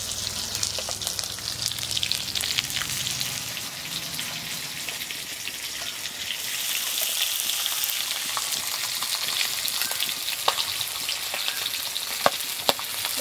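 Sliced onions hit hot leftover fish oil in a wok and crackle into a dense, steady sizzle that carries on without pause, close and fairly loud, with faint stirring scrapes and sharper pops near the end and no voices.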